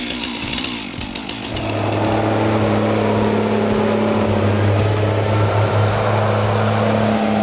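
A big chainsaw in forest tree-cutting work first runs in uneven revving bursts, then holds a loud, steady high-pitched whine as it cuts into the tree, close and alone without voices.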